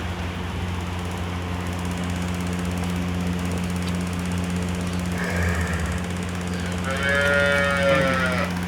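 A Nili-Ravi water buffalo lets out a loud, drawn-out moo near the end, rising over a steady engine-like drone that hums throughout at a livestock sale, with a shorter lowing call just before it.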